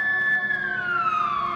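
An ambulance siren wails steadily at the scene of a neighborhood shooting, its tone sliding gradually downward as it passes, loud and continuous with no talk over it.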